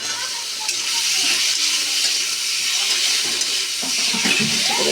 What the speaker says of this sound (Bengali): আমি এবার এইগুলো তেলে দিয়ে দেবো। টমেটোটা ভেজে নেবো, তাহলে গলে যাবে।